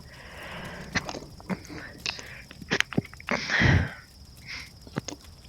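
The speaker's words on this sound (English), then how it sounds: "Sorry, had to sneeze there." A single person sneezes at close range amid faint shuffling and sniffing, with the burst coming midway through the clip and brief rustles around it.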